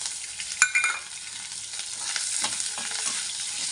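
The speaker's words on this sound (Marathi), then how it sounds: "आता मी यात टाकते कट केलेली हिरवी मिरची." Chopped green chillies hitting hot oil with softened onion in a pan for rava upma, a steady close sizzle with a brief spattering burst near the start and faint stirring scrapes, no voices.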